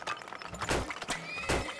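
Horses neigh in the Turmoil game, two loud whinnies with a clip-clop of hooves running underneath, standing out clearly from a busy background with no talking.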